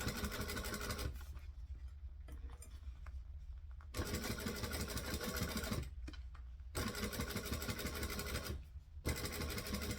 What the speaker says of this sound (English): slowly stitch around the edge, making sure that the lining fabric's not showing